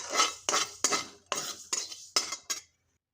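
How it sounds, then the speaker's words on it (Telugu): Fenugreek and cumin seeds dry-roasting in a pan, stirred with a utensil: about seven sharp, close scraping strokes in a steady rhythm, each loud and brief, followed by quiet. "ముందుగానే తీసుకున్న మెంతులు, అలాగే జీలకర్ర ఇందులో వేసేసి కొంచెం చిటపట అనే వరకు అయితే వేపుకుంటే సరిపోతుంది"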